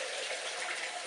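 Roughly 300 ml of water poured into a Cookeo multicooker pot makes a brief, steady hissing splash, soft and close, with no talking.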